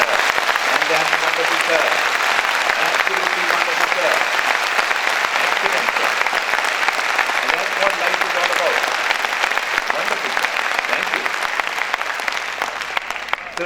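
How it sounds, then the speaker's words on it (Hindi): Large audience at a motivational talk giving loud, sustained clapping for parents and teachers, a thick wash of many hands that holds steady and fades slightly near the end, with voices mixed in. "क्या हमारे ग्रेट ऑडियंस अपने रिस्पेक्टेड पेरेंट्स और टीचर्स के लिए एक जोरदार ताली बजा सकते हैं?"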